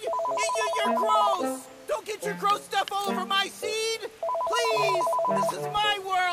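A telephone rings in the VR office game Accounting+, its repeated electronic trill sounding in two bursts while someone shouts loudly over it.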